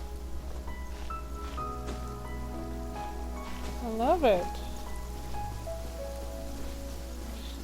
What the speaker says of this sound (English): why miss all this gorgeous rainy weather?